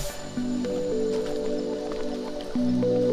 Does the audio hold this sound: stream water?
yes